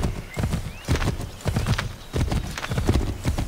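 Hooves pound steadily as a horse is urged faster across open ground in Assassin's Creed III, a loud, continuous galloping clip-clop with a whinny mixed in.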